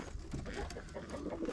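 Pigeons in a winter loft of unbanded birds and rollers coo softly and steadily through the whole short stretch, with low murmuring calls overlapping at close range and no talking.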